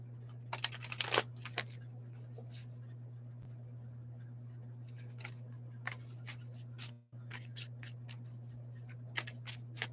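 Tarot cards are shuffled quietly and close up in soft, irregular bursts of riffling and flicking over a steady low electrical hum, with several short bursts separated by brief pauses.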